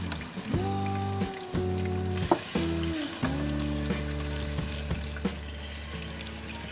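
Two ground onions go into hot oil in a karahi while making kabab karahi masala, giving a steady, close, continuous sizzle with stirring bursts and a few clatters throughout.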